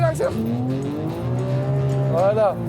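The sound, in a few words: Porsche GT3 RS accelerating and countersteering in a field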